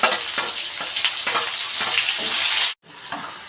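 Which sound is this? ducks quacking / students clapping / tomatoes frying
tomatoes frying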